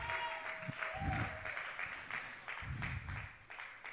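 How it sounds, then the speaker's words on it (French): A church congregation claps for the Lord in steady, sustained applause, with voices and music blending in beneath the clapping. "Acclamons pour le Seigneur."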